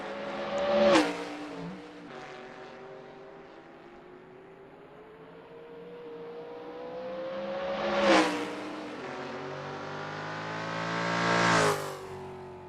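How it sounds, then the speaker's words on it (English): Trans Am race cars passing at Road America: a group of high-revving engines sweeps by one after another, each swelling loud then fading, with rising and falling pitch as the cars approach and pull away. "We've got a nice little group of cars coming through now."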